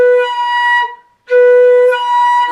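A flat, covered brass tone played with the lips rolled in, heard as two sustained notes separated by a brief gap, close and fairly loud with no talking.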